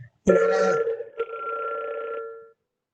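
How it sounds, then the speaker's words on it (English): A short electronic ringing tone sounds twice in quick succession, clear and close, then stops into silence. "I hear a ringing sound."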